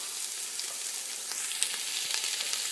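Sofrito sizzling in hot oil in a pan for Spanish-style rice, a steady close crackle and hiss with scattered pops and no voices.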